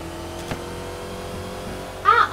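A Lamborghini racing in a video game: a faint engine hum for most of the moment, then a louder burst of revving and tyre noise near the end.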